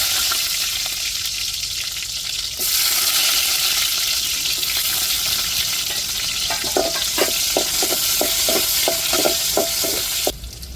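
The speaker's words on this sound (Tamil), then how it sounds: "இப்போ கடுகு உளுந்து சேர்த்துக்கிடுவோம் சேர்த்துக்கிடுவோம் வெங்காயம் சேர்த்துக்கிடுவோம்" Mustard seeds, urad dal and onion frying in hot oil for a kuzhambu, a loud, steady sizzle that breaks into a rapid, regular run of sharp crackling pops before stopping abruptly.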